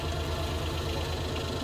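A tractor engine idles in Farming Simulator 19, a steady, close, pulsing low rumble with a regular knocking beat, heard alone and unbroken.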